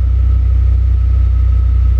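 An Audi RS6 with a 5.0 V10 twin-turbo engine idles with a loud, steady, deep rumble and a faint pulsing beat. The engine is close by and sounds alone.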